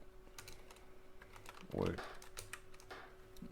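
Keys tapped on a computer keyboard while entering a login command and password for a game server, soft irregular clicks running throughout with one louder thump midway, under a faint background hum.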